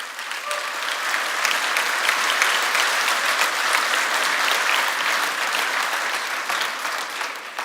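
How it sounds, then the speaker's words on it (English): A keynote audience at an enterprise software conference gives a sustained round of applause, a broad even roar of many hands clapping that holds steady from start to finish with a few cheers inside it. "Can I please get a round of applause for the customers in the audience today?"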